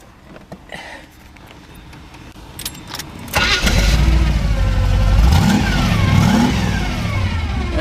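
A 1931 Ford Model A 5-window coupe fitted with a rebuilt 350 Chevy engine with aluminum heads cranks after some clicks and rattles, fires up loudly and revs a few times before settling into a strong rumble.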